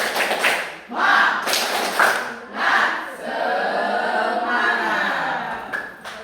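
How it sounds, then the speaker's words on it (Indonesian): A class of eighth-grade students performs a rhythmic spirit clapping chant, with loud group claps falling in patterned beats mixed with shouted chanting voices, close and energetic throughout. "Kita tepuk semangat."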